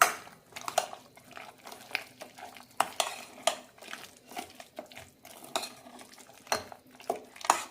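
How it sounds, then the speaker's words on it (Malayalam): A spoon stirs yam and raw banana curry with ground coconut paste in a pot for an Onam feast, with repeated sharp scraping clinks against the metal in an uneven rhythm, close and alone. "നന്നായി മിക്സ് ചെയ്യാം"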